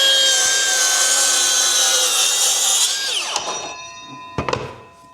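Power saw whining through plywood for shelf pieces, a loud steady high-pitched cut that winds down after three seconds, followed by a few clunks of wood being handled.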